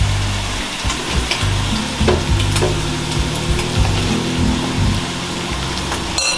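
Guatemalan dobladas, thin tortillas folded around beef and cabbage, fry in hot oil with a loud, steady close-up sizzle, scattered crackles and a low rumbling hum underneath, with no speech.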